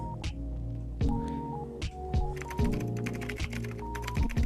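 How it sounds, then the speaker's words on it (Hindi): Computer keyboard typing sound effect added to on-screen text during a video edit, with rapid steady clacking keystrokes over a low hum, heard alone. "we have a very nice typing effect in our text"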